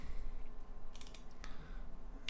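A few quick keystrokes on a computer keyboard, light clicks clustered around the middle, with another tap near the end over a low steady room hum.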